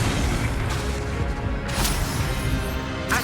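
Spellcasting in Hogwarts Legacy: dense whooshing magical blasts and booming impacts layered over busy game noise, with a few sharper bursts standing out near the start, the middle and the end of the stretch.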